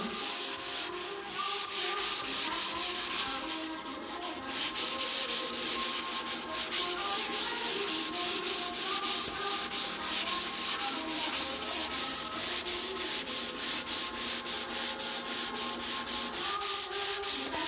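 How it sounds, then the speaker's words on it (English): Limed timber stairs being sanded with a steady, close rubbing sander. The grinding hiss runs continuously and fairly loud with a regular pulsing rhythm, and no voices are heard. "It's very white, but when you sand it, then you can see the timber comes through"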